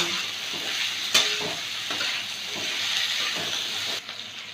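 Beans and carrot sizzle steadily in a frying pan with a constant hiss. A sharp stirring clack comes near the one-second mark, and the sizzle eases slightly just before the end.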